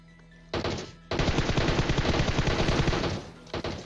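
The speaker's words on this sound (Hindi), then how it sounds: "गेम एक्स प्रो ने मार दिया उसे गन से।" Gunfire in a battle royale mobile game: a short burst, then a sustained rapid automatic volley lasting about two seconds, and a final brief burst, loud and close.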